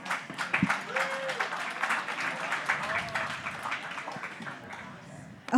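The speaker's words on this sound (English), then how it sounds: "another round of applause for my friends" Audience at a pub talk event clapping for two guests, steady applause mixed with voices talking over it, fading toward the end.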